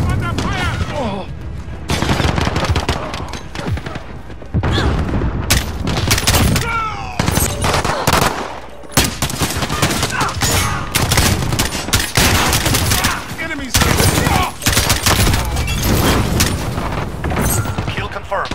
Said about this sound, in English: Now we're starting with the M4A1.